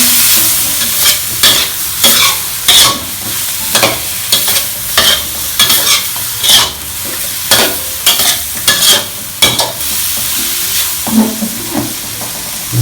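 Pork liver and banana peppers being stir-fried in a pan: loud, close spatula scrapes and tosses in a quick irregular rhythm over a steady sizzle, with no voices.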